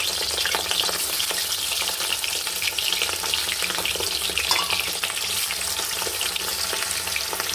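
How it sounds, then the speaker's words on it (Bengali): Rohu fish pieces fry in hot oil for fish kalia, a dense steady sizzle with crackling and stirring, close and continuous with no voices. "মাছ ভাজা তেলের মধ্যে"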